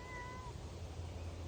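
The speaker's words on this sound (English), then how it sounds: "And Oliver the cat has decided to come here and make some noise." A house cat meows a couple of times, with thin tonal cries rising over a steady low background hum at close range; no one speaks.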